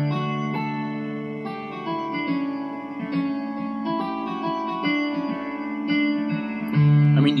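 Hammered dulcimer patch on a keyboard with its chorus effect tuned too closely, giving sustained plucked-and-struck notes in a steady melodic run, fairly loud and alone with no talk.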